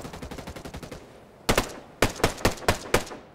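Gunshots in the Ghost Recon Breakpoint PVP match: a quick rattling burst of fire, a short pause, then several louder, well-spaced single shots cracking close by.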